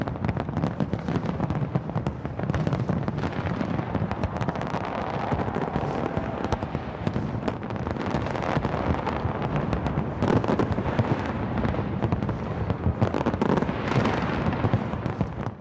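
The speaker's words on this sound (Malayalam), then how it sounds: "സിഡ്നി ഹാർബർ ബ്രിഡ്ജിൽ പ്രാദേശിക സമയം കൃത്യം 12 മണിക്ക് വെടിക്കെട്ടും ആരവങ്ങളും ഉയർന്നു." New Year's midnight fireworks over Sydney Harbour Bridge: a dense, continuous roar of bursts and crackles with crowd noise blended in, loud and sustained throughout with no pauses.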